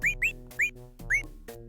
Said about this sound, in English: wonder what you're whistling now. It sounded familiar.